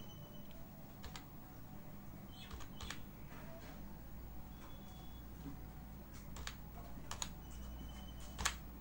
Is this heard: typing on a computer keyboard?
yes